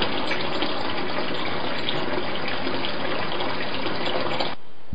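Water gushes steadily and loudly into a sink around a waterproof camera case, a continuous full rush that cuts off abruptly at the end.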